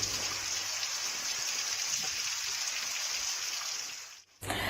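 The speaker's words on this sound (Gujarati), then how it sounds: "લુણાવાડા કડાણાના ગ્રામ્ય વિસ્તારમાં ધીમી ધારે વરસાદ શરૂ થયો છે." Light rain falls steadily over rural villages in Lunawada and Kadana, a continuous close patter of drops that cuts out briefly near the end before resuming.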